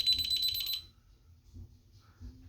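A security system demo panel sounds a loud, shrill, high-pitched pulsing alarm for just under a second, then cuts off, leaving faint low thumps and clicks.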